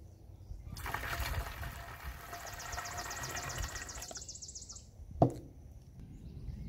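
Water pours and trickles steadily into a garden sprayer being filled with about 8 cups, with a faint higher whine running for part of the time, then a sharp knock near the end.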